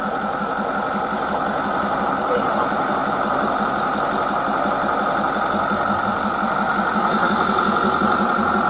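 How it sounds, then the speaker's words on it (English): A vehicle engine idles close by with a steady, loud, even drone and rapid rhythmic pulsing that fills the whole stretch, with voices faintly present beneath it. "I'm sitting next to this engine. I can barely hear you."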